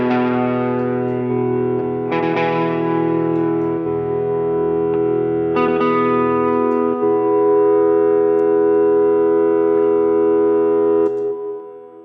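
Guitar layered through two EHX Freeze pedals with the levels raised: a thick sustained drone that gets fuller and louder as each new strum adds a layer, with occasional picked attacks on top.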